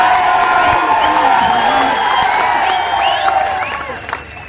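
A large political rally crowd in Haryana claps and cheers loudly, with whoops and shouting voices over the clapping before the noise eases off at the end.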